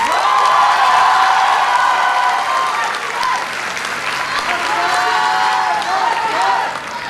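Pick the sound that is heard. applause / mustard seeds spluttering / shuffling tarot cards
applause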